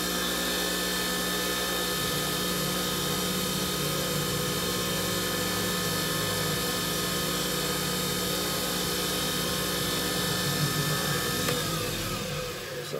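A wood lathe runs at higher speed while a pen is polished with plastic polish, giving a loud, steady whirring motor hum with a faint high whine that holds throughout before easing off at the very end.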